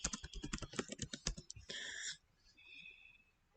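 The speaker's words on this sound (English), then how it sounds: "let's say we want to type in the Black Plague" Fast typing on a computer keyboard entering a search, a dense run of clicking keystrokes for about two seconds that stops, leaving a faint background.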